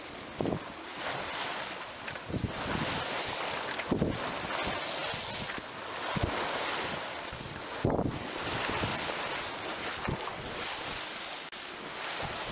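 Wind buffets the microphone while steepening, growing waves slap and splash against a sailing yacht's hull on the sea near Den Helder, with periodic louder surges as the boat rides through the swell.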